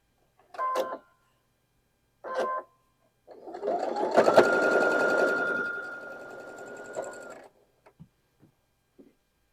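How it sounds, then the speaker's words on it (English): A sewing machine runs a seam on a quilt block, with a couple of short bursts first, then a longer steady stitching run of a few seconds, followed by a few light clicks, close and clear. "Right sides together, and we'll sew down that seam."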